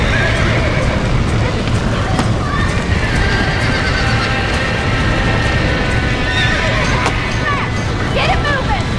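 Horses in the video game Red Dead Redemption neigh and whinny repeatedly over a steady bed of galloping hooves, with busy game noise throughout at high level.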